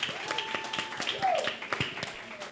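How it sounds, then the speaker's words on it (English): Brief applause from a book festival audience welcoming a reader, scattered claps under a speaking voice over a couple of seconds. "Let's give her a round of applause."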